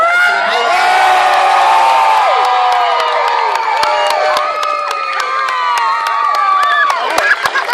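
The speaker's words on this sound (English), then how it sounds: "maybe you should give one more cheer with them" Crowd in Falcarragh cheering a team of players gathered on a stage: loud, sustained whoops, yells and high shouts from many people, with sharp rhythmic claps joining in toward the end.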